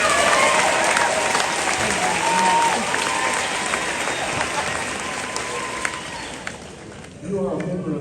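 Sustained applause from a large audience fills a graduation ceremony, steady clapping with crowd murmur that continues for several seconds before thinning and giving way to a voice near the end.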